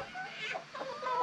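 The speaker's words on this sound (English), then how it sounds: "That's a lot of chickens." Chickens cluck softly and continuously inside a coop holding around seventy birds, with several overlapping voices close by in a brief, low-level burst.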